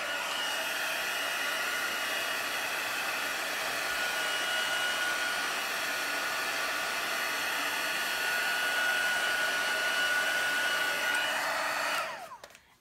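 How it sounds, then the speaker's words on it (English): A heat tool blows hot air to dry ink on a stamped background: a continuous whirring blast for about twelve seconds that then cuts off. "So I'm going to hit it with my heat tool really quick."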